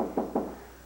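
Two sharp knocks on a door in quick succession, fairly close and alone with no voices over them.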